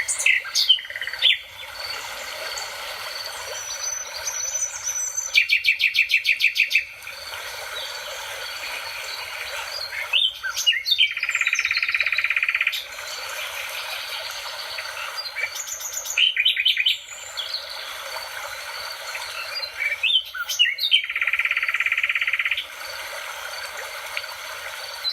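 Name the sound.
nightingale song, played recording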